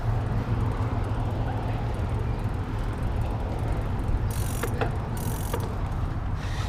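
The drive unit gearbox of a Cube Reaction Hybrid HPA SL 500 e-bike spins with a steady whirring, ratcheting mechanical hum. A couple of brief sharp clicks sound near the end.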